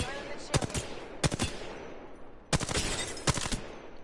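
Carbine assault rifle fire in a PS4 video game cracks out in short, sharp bursts of rapid shots, several quick volleys separated by brief pauses, loud and close.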